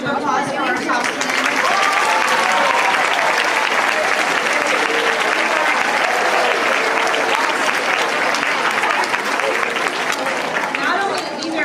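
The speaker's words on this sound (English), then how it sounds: "if we could just have another round of applause for our top students" Sustained, loud audience applause for top students at a middle school seventh-grade awards ceremony, dense clapping filling the hall for about twelve seconds with crowd murmur and voices mixed in.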